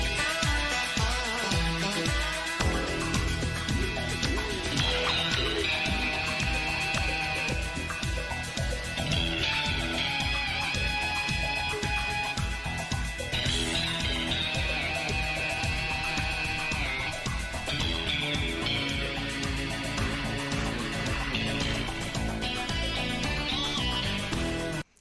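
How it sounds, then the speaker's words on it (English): Dense, continuous music from the Cocaine Cowboys soundtrack, with a synthesized faux electric guitar line over a steady beat and bass, playing at a constant level throughout. "bit of this Cocaine Cowboys soundtrack that I had in mind when I was making this sound"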